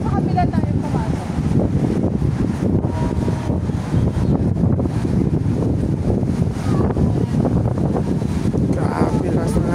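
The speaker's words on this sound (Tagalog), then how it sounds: "Grabe, lakas ng hangin." Strong wind buffets the microphone outdoors, a steady low roar and rumble across the whole stretch with gusty surges, while faint voices talk underneath.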